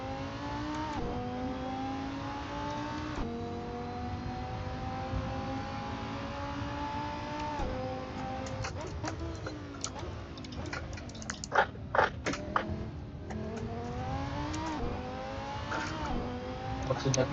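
A car revs through a hot lap on a track, its engine rising and falling in pitch with gear changes, heard faintly and mixed with scattered clicks and knocks nearby.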